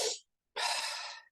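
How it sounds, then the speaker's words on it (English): Deep circular breathing in the Wim Hof method: a short forceful breath, a pause, then a long full breath that rushes steadily before tapering off, close and loud with no talking. "you do 30 to 40 deep circular breaths"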